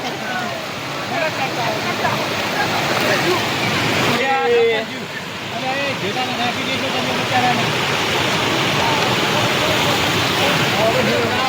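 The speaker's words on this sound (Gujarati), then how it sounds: "પૂર આવી ગયું, પૂર છે." Loud, continuous roar of rushing floodwater in Surendranagar, Saurashtra, fills the scene, with people talking over the torrent.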